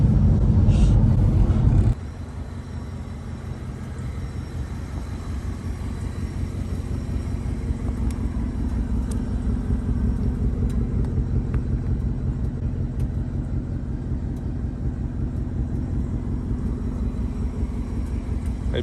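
A 2021 Ford Mustang Mach 1 pulls away, its low engine rumble steady and moderately loud after a brief louder burst at the start, continuing as a sustained drone.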